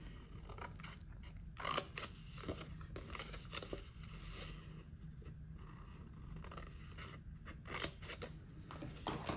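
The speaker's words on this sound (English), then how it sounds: "cut these final triangles apart down that solid line that we folded along" Scissors cutting apart folded paper triangles for a commemoration wreath craft, a faint, close series of crisp snips and paper crinkles repeating irregularly throughout.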